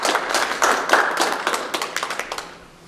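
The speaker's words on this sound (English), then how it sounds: "Let's give these gentlemen and lady a round of applause" A modest round of hand clapping from attendees at a school board meeting, with distinct individual claps that thin out and fade over about three seconds.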